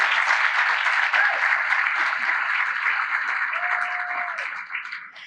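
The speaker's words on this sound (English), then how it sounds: "Let's just give them a round of applause before they get up here." Summit audience applauding honorees, with sustained clapping from a sizeable crowd that slowly thins and fades toward the end, heard at moderate loudness with no talking over it.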